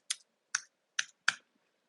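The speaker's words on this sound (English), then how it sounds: "we're going to click on the Ceritude link, and we're going to type in winter." Four crisp, quiet keystrokes on a computer keyboard, spaced irregularly about half a second apart, close and isolated against silence.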